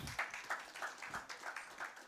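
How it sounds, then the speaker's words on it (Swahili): An audience claps for panelists at a live draw event, brief scattered clapping that is fairly soft and a little uneven. "Tuwapigie makofi wakiketi."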